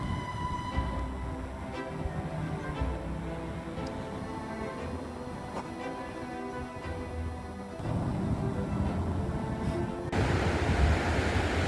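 Ocean surf rushing and breaking at the Oregon coast near Florence, a broad steady wash that swells louder in the later part, with no voices.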